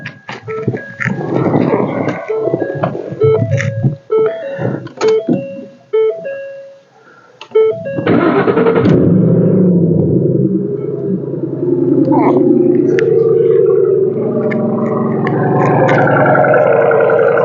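A 2010 Ford Mustang engine cranks and catches after several seconds of talk, then settles into a loud, steady rumbling idle with some revving, close by.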